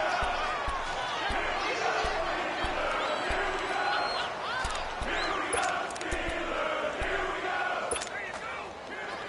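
Simulated stadium crowd in a Madden football game building and roaring ahead of a big third down, a continuous dense wall of noise with thuds and whistles, a commentator's voice running over it.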